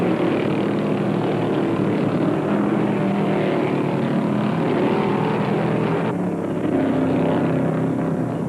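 A loud, steady NASCAR race car engine roar fills the whole stretch at the 1975 Carolina 500, with a sudden shift in tone partway through as the engine blows up.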